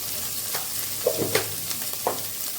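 Vegetables for Bengali-style pasta frying in a pan, a soft steady sizzle with a few scraping stirs and light clacks, close and fairly quiet.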